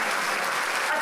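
A brief burst of steady crowd applause honours a singer at a comedy event, dense clapping with no gaps for about a second.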